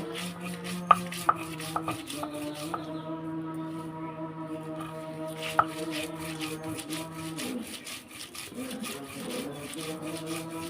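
Steady rough rubbing of a stone grinder crushing fried beef on a grinding stone, with a few sharp knocks, under continuous background music.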